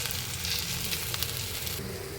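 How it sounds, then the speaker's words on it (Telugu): Food fries uncovered in an open pan, a dense, even sizzle with faint crackles, close and steady for a couple of seconds. "లిడ్ పెట్టకుండా ఇలాగే పెట్టుకుంటే మనకు మంచిగా ఫ్రై అవుతూ ఉంటుంది"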